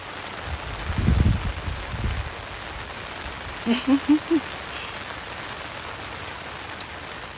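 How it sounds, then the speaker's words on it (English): Steady rain falls outdoors as a soft, even hiss throughout. A brief low voice sounds near the start, and a few short louder knocks come midway. "I'm actually enjoying this rain."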